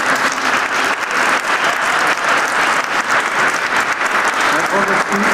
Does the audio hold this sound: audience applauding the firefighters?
yes